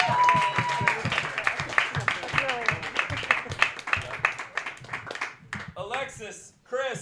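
Audience clapping and cheering for Chris Crespo, a roast battler, at a Roast Battle League comedy show in New York, dense and steady through most of the stretch, with a host talking over it before the applause thins out at the end.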